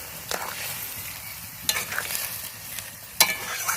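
Radish curry simmering and sizzling in a pan right after tomato goes in, with a steady frying hiss and a few sharp clinks and scrapes of a spoon stirring against the pan, close and fairly loud.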